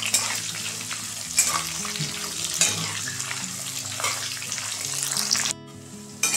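Chopped onion fries in a pan with a steady, close sizzle, broken by occasional scraping as it is stirred.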